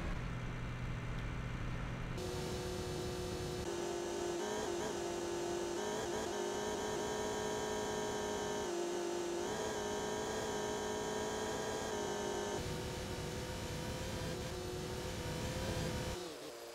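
In the Cattle and Crops farming game, a tractor engine drones steadily as it drives, with a continuous whirring tone whose pitch shifts slightly as it goes and no talking over it.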